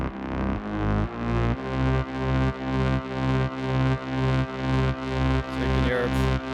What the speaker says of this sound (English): you can hear it bounce from left to right